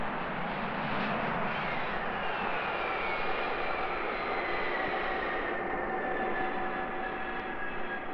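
A Hawker Siddeley Harrier jump jet's engine roars steadily and loudly with a broad rushing drone and a faint rising whine, sustained throughout without voices.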